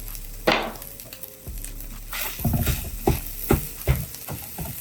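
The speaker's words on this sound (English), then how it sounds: "Literally just throw it in the skillet, let it break down, and it will produce its own oil" Beyond Meat plant-based ground meat tossed into a hot skillet, breaking down and frying in its own oil, with a soft sizzle beneath a series of sharp scraping and tapping strokes from a utensil against the pan.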